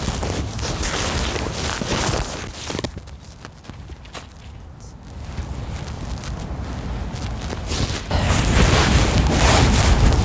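Gusty wind buffets the microphone outdoors, rumbling and roaring in waves that ease in the middle and then rise stronger again.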